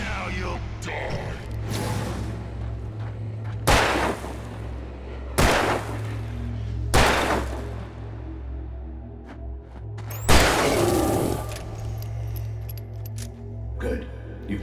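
Gunfire in the video game Alan Wake Remastered: about five sharp, loud shots spaced irregularly over a steady low ambient drone, with fainter clicks and rattles between them.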